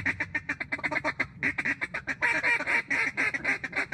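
Ducks quacking close by during a duck and goose hunt over a pothole, a rapid, continuous run of loud, raspy quacks with only brief pauses, several birds calling over one another.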